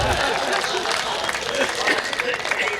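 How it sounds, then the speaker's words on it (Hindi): An audience at a comic poetry show gives a steady wash of clapping and crowd noise that stays fairly even throughout, with a voice speaking over it. "तालियां कमज़ोर हो गई भाई साहब"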